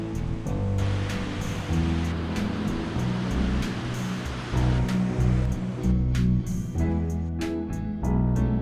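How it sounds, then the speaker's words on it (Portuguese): Cascata Pinel waterfall near Nova Friburgo, Brazil: a steady, close rushing roar of falling water that fills the whole clip, with sustained tonal sounds layered over it. "Cascata Pinel, muito legal."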